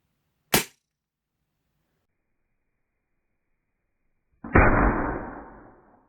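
A Diana Chaser CO2 air pistol fires once, a sharp loud crack close by; after a few seconds of silence, a second, longer burst of hissing noise trails off slowly.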